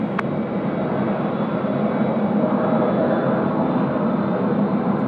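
A Qantas passenger jet at Sydney Airport during high-wind single-runway operations gives off a steady, broad roar of jet engines at moderate distance for the whole stretch, with no voices.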